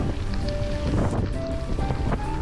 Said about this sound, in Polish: Podmuchy wiatru coraz bardziej się wzmagają.